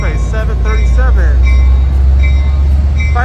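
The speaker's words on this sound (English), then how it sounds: "Amtrak, Capital Corridor train, 737." Amtrak Capital Corridor train 737, hauled by a 2006 F59PHI locomotive, rumbles loudly and steadily at Oakland's Jack London Square station, with a bell or horn-like tone and squealing wheels over the heavy low drone.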